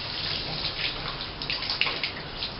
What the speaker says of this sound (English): I'm using the water spray.